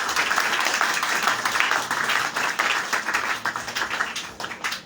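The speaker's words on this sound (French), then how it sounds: "Acclamons d'abord pour la gloire du Seigneur." Congregation clapping together in a church during a French-language sermon, a dense, steady wash of applause sustained throughout at moderate loudness with no break.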